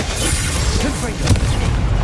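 A Confringo explosive spell goes off in Hogwarts Legacy, a dull boom within a loud, busy mix of spell effects and game noise while voices talk over it.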